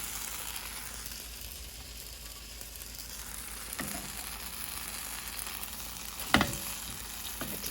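Keto blueberry pancakes fry in a pan with a steady close sizzle that continues throughout, broken by a couple of brief scraping clicks from a utensil and no voices.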